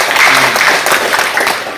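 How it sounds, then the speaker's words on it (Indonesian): Applause from an audience at a school education event in Kupang, a sustained wash of clapping that fades slightly toward the end. "Bapak Sepsen Mihabalo, tepuk tangan dulu ya."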